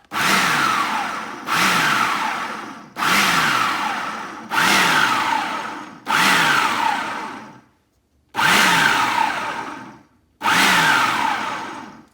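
Blender pulsing a homemade discus fish food mix, seven loud bursts of motor whirr about a second each, separated by short pauses, the motor pitch sagging as each pulse runs.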